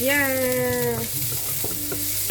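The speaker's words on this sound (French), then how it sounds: "bien cuire l'oignon" Onion with frozen garlic frying in a pan, a continuous close sizzle; a brief harmonic whine at the start gives way to light stirring and clatter under the frying.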